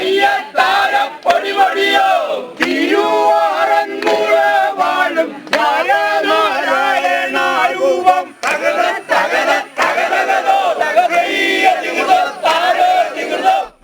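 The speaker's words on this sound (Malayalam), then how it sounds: "വച്ചിപ്പാട്ട്, ആർപ്പുവിളി, കുരവ" A crowd at the Aranmula Thiruvonam boat send-off in Kerala sings a rhythmic boat song with loud cheering and ululation, dense massed voices rising and falling in bursts almost continuously across fourteen seconds.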